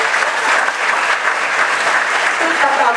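A theatre audience applauds the technical crew responsible for sound effects and lighting, giving steady, dense clapping that holds at full strength for the whole stretch without any talk over it.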